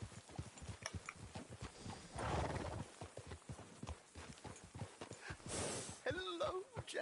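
A horse in the video game Red Dead Redemption 2 clip-clops along in a steady trotting rhythm, with a brief whinny near the end and voices mixed into the game sound.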